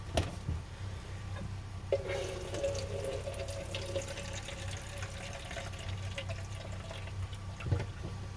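Water runs steadily from a kitchen sink tap and drains, a continuous mid-level gush over a low background hum, no talking.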